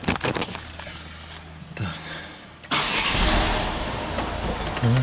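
A car engine cranks and catches at the end, then settles into a steady, loud running rumble close by.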